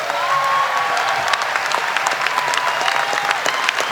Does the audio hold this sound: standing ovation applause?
yes